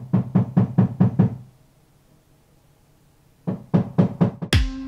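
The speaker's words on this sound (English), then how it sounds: "I just got my neighbors hammering next door" Hammering from next door comes in two bursts of rapid, evenly spaced blows, six or so each, separated by a quiet pause and ending in a sharper clatter.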